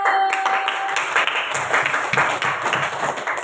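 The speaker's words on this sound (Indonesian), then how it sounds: "Kasih tepuk tangan untuk kelompok 1." Classroom applause for the first student group after their presentation at an elementary school, a dense, steady patter of many hands clapping close by, lasting several seconds.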